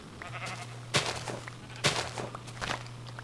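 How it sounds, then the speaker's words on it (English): Minecraft sheep in a grazing flock give short bleats mixed with crunchy in-game footsteps and thumps, fairly close and sparse over a constant low hum, with no voices. "A whole colony of sheep."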